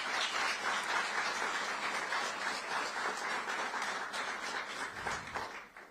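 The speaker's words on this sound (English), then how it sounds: "So please give them a round of applause." A press-event audience in Florida applauds with steady, dense clapping for about six seconds, holding an even level before it thins out and fades at the end.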